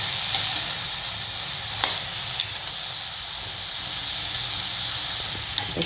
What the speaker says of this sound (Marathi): आता आपण हे छान मिक्स करून घेणार आहोत।